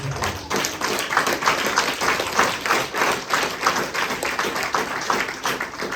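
A congregation claps during a Sunday church service, dense and fairly steady handclapping with some rhythmic pulsing throughout.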